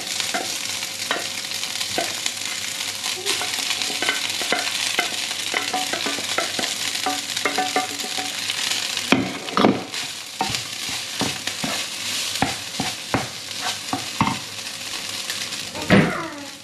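Garlic sizzles and fries in oil in a pan for fried rice, a steady crackling hiss with repeated stirring scrapes and a few sharp utensil knocks against the pan near the end.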